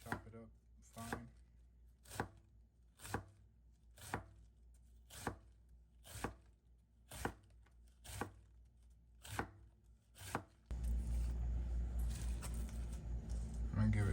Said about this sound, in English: So I have green and purple coleslaw. Chop it up fine.